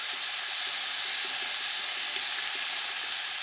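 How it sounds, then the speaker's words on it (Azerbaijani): Onions frying in liquid oil in a pan give a steady, even hiss and sizzle that runs without a break, fairly close and moderately loud, with no voices over it. "Duru yağ əlavə edirəm."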